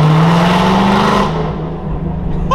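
A loud modified Ford car engine revs hard at a city car meet, the roar bouncing off surrounding walls before dropping away to a lower, rougher idle rumble, close and dominant with no voices.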